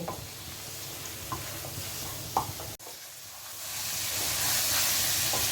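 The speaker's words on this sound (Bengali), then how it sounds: "এটা দিয়ে আমি ভালো করে 2-3 মিনিট নাড়াচাড়া করব" Boiled potatoes and jackfruit with spices stirred in a pan, steady sizzling and hissing with a few spatula scrapes; the frying grows louder and brighter toward the end, no talking.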